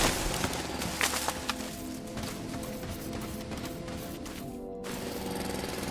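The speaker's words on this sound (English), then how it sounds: "Can you hear the drill?" A mining drill in the factory-building game Foundry rattles and hammers loudly and without a break, a dense mechanical clatter with a few heavier knocks near the start.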